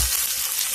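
A village-style tempering of spices hits hot oil in a pan and sizzles loudly and continuously at close range, a bright hissing fry with no voices.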